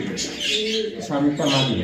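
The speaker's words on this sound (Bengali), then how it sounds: "কালারটা সিলভার কালার বিটা হচ্ছে সিরাজি কবুতর" Silver Sirazi pigeons at a farm give soft throaty coos in short bursts, close to the listener, with a voice talking alongside.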